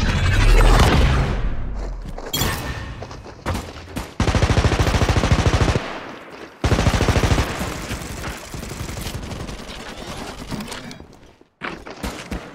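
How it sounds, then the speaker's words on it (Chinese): Gunfire from Apex Legends Mobile comes in loud bursts of rapid automatic shots with brief pauses between volleys, punctuated by heavier thumps and booms. "敌人竟敢朝我开枪！"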